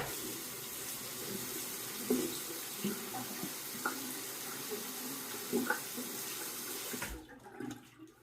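A tap runs steadily while a razor from a Noxzema travel shaving kit is rinsed under it, with light clinks and splashes over the constant flow until the water shuts off near the end.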